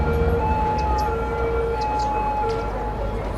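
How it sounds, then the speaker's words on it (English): A police car siren in the city-building game Cities: Skylines wails in a steady, sustained tone that holds loud and close throughout, with faint background game ambience beneath. "There's one of the police cars."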